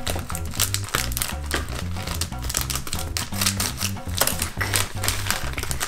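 A package of jelly banana candies is torn open, with busy crinkling and rustling of plastic wrapper in quick irregular bursts, close by, over a thumping background beat.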